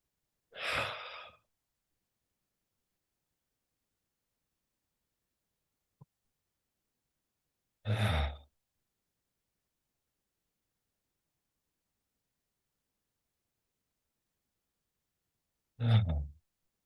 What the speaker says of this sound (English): We might close our practice with 2 or 3 slightly deeper than normal breaths.